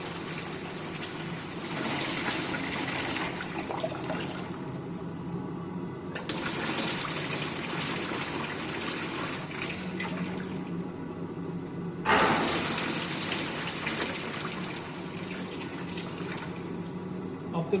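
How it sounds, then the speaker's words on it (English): Water gushes out of a pipe system as a valve is opened and closed, giving a strong rushing flow that surges, drops off around six seconds, then bursts back in again at twelve seconds. "You can see water is coming out now."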